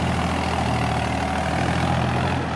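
A Mahindra 265 tractor pulling a 9-tine cultivator runs steadily under load, its diesel engine a loud, constant low throb with no breaks, close by and with no talk.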